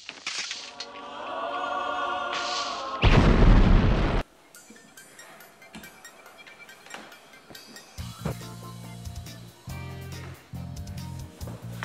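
A Monty Python Holy Hand Grenade goes off in one loud, sudden burst that stops abruptly, followed by scattered clatter and a short rhythmic musical passage.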